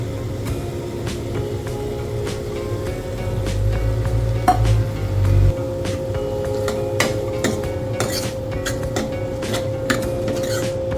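Vegetables cooking in a pan, a steady sizzle under a low hum, with scattered clinks of a utensil against the pan throughout.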